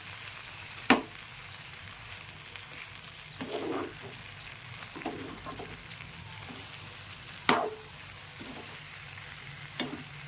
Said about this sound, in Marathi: आपली मिरची शिजत आलेली आहे